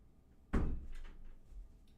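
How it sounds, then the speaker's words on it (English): An indoor door swings shut with a single solid thump, followed by a brief quiet rattle as it settles. "That was my door, okay?"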